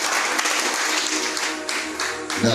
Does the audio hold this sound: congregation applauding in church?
yes